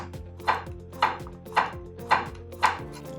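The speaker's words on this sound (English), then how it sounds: "A Santoku knife has a straighter blade that makes chopping really easy." A Santoku knife chopping on a cutting board, five crisp evenly spaced knocks about half a second apart, close and alone.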